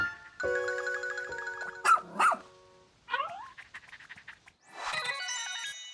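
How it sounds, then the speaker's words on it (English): In the video game Pikmin 4, a young rescue pup space dog gives a few short cartoonish barks and yips between bright electronic game chimes and melodic tones, with quiet gaps in between. "this young, loyal rescue pup is one of an elite breed of space dogs"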